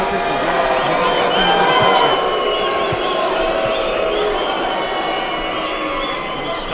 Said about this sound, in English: Style draws the ire of the crowd.